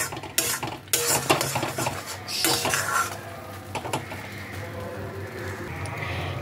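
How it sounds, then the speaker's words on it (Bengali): Potol and shrimp paste being stirred in a pan: loud, close scraping and clinking of a metal spoon against the pan in irregular bursts, easing into a quieter sizzle with no voices. "এভাবে ভালো করে নাড়িয়ে পেস্টটাকে টানাতে হবে।"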